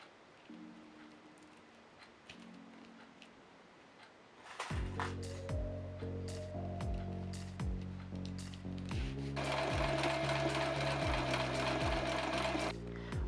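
A sewing machine starts after a quiet opening and hums steadily up close as it stitches the panels of a ball gown petticoat skirt, growing louder and busier toward the end.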